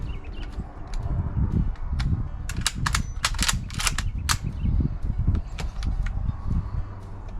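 150 grain soft point cartridges are loaded one at a time into a World War I rifle, with close metallic clicks and clacks clustered in the middle over low handling rumble.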